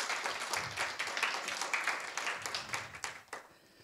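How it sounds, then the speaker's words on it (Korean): A church congregation gives a short round of thanksgiving applause during a Sunday worship service, uneven clapping that builds briefly and then thins out and fades within a few seconds. "우리 한번 하나님께 감사의 박수를 드리겠습니다."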